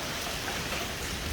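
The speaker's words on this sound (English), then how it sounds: "Literally golf ball size hail." Golf-ball-size hail and heavy rain pour down in a dense, unbroken roar of impacts, loud and steady with no voices.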